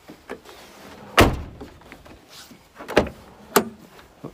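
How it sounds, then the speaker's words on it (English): The rear door of a Ford extended cab truck, fitted with a new latch cable, is shut with one solid thunk, followed by a few lighter latch clicks and knocks nearby. "So let's shut the door"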